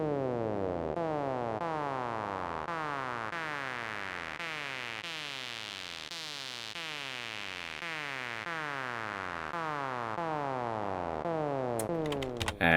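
A psytrance squelch synth sequence built in Phase Plant plays alone: fast repeating resonant notes with sweeping filter movement that rises and falls, dry and continuous, ending in a short glitchy burst.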